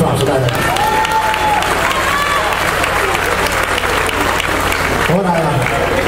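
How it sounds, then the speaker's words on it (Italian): A live folk concert audience applauds a singer with sustained, fairly loud clapping and some scattered cheers, while faint voices and brief tonal sounds drift underneath. "Un applauso, dai."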